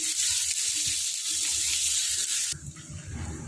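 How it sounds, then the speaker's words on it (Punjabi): Ginger and garlic frying in a pan, a steady close sizzle running throughout, softening and turning more bubbly in the last second as the sound drops in level. "ਆਪਾਂ ਅਦਰਕ ਤੇ ਲਸਣ ਨੂੰ ਬਣਾ ਲਵਾਂਗੇ ਥੋੜੀ ਦੇਰ ਆਪਾਂ ਬਣਾ ਲਵਾਂਗੇ ਅਦਰਕ ਤੇ ਲਸਣ"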